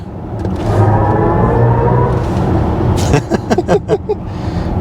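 A BMW iX xDrive50 electric car plays its Iconic Sound, a steady synthetic drone with a low tone that swells and holds, then gives way to a series of short bright pulses near the end.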